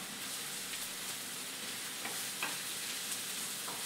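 Diced shallots cook gently in a pan with a steady, soft sizzle, and a few quiet scrapes of stirring come through near the end; nobody speaks.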